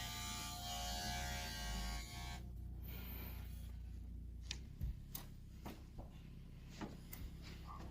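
An electric hair clipper buzzes faintly and steadily while cutting hair for about two seconds, then stops. Soft scattered ticks and clicks follow in a quiet room.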